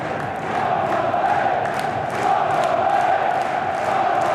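Football crowd at the CBS Arena during a Coventry City v Burnley Championship match, a dense sustained roar filling the stadium, swelling slightly midway and staying loud throughout.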